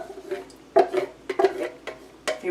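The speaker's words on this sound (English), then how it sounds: "Let's give that a stir." A spoon stirs tomato puree in a pot, clinking and knocking against the sides in several uneven strokes, close and fairly loud.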